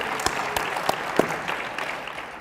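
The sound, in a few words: audience applause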